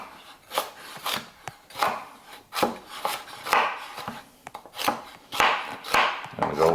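Knife chopping carrot on a wooden cutting board for smothered turkey wing gravy, a quick run of close, sharp taps with a few pauses between bursts.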